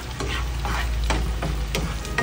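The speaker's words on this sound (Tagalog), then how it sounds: "Haluin natin." Chili and spices fry in a pan with ginger, garlic and onion while being stirred: a steady close sizzle with repeated scraping strokes of the spoon, no speech.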